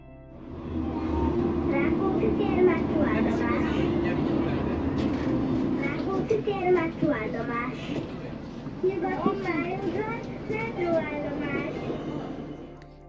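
Inside a moving tram in Budapest, a steady low rumble of the car runs throughout, with children's voices chattering and calling over it at close range.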